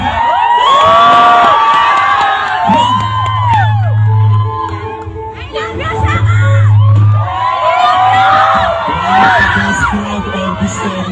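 A live crowd at a concert cheers, whoops and shouts loudly and continuously, with voices rising and falling in waves and low bellowing bursts mixed in.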